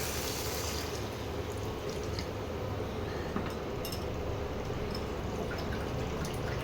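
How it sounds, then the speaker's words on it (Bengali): Water is poured into a cooking pot of fish and potatoes, giving a soft steady trickle and splash with a few clear drips. It sounds close but fairly quiet, and no one speaks. "এইবারে জলটা দিয়ে দেবো।"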